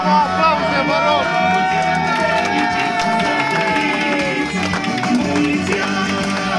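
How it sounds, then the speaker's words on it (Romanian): A crowd at a birthday party for Viorica and Denisa claps and cheers amid lively chatter, with voices singing and calling out over the steady, loud, close clapping throughout. "Bravo, aplauze, mă rog!"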